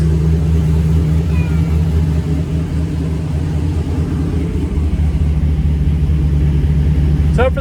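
A 6.0L V8-swapped Toyota Prius doing a burnout, a loud, steady low engine roar held at high revs with tire spin, a little squeal near the end.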